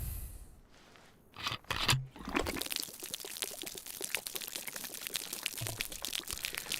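Bad water is poured out of a container in the survival video game DayZ, set on the Livonia map, giving a steady, faint splashing trickle that runs for several seconds after a short rustle, with no speech.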